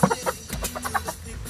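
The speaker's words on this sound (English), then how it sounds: "I got a chicken." A chicken clucks close by in a quick series of short, bright, rhythmic clucks.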